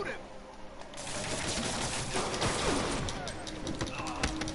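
Rapid gunfire crackles in a Spiderman video game, a dense burst of shots and impacts layered over game noise, with voices talking over it.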